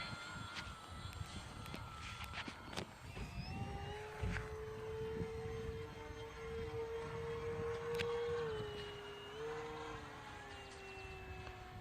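A Red Bull Edge 540 RC airplane flies overhead, its electric motor whining in a sustained rising and falling tone that swells nearer and fades, over a breezy outdoor background.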